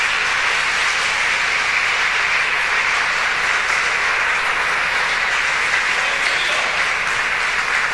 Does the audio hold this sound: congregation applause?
yes